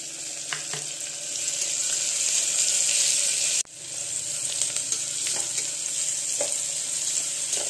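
Onion sautéing in a pan with salt makes a continuous, close sizzle, with light spoon taps and scrapes from stirring scattered through it and one brief dip partway.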